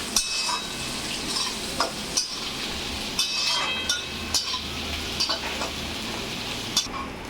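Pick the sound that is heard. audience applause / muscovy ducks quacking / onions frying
onions frying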